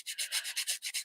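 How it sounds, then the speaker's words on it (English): Fine sandpaper rubs over a papier-mâché surface in quick, even back-and-forth strokes, about nine soft scratchy passes, close and fairly quiet with no voices. "I just got a fine piece of sandpaper here and I just want to make it smooth"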